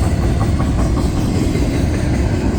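A westbound CSX intermodal freight train with two lead locomotives passes close by in Bloomdale, Ohio, a loud, steady rumble with rhythmic clickety-clack and thumping from wheels with flat spots, no voices.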